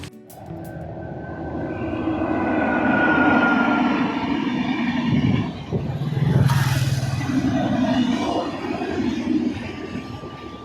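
A train rumbles past steadily beside rice paddy fields near Kolkata for several seconds, swelling and fading slightly, with a brief squeal midway; no talking.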